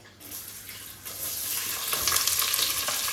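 Chopped onions hit hot oil with masala spices for chicken biryani, giving a dense, continuous sizzle that swells louder after the first second and stays strong, with no talking.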